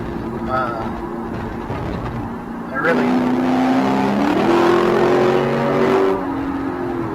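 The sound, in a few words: V8 car engine revving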